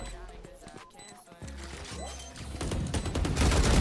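Rapid bursts of gunfire in a first-person shooter game, starting sparse and building into dense, loud volleys with clicks and crashes, while players talk over the action.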